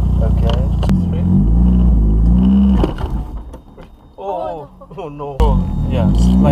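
A car pulls away under instruction using the handbrake and clutch, then slides. The engine hums and revs in a loud, low rumble, with voices over it, a brief quieter dip partway through, and the engine swelling again at the end.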